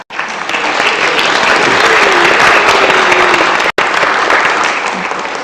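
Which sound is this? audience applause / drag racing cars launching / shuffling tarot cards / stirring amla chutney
audience applause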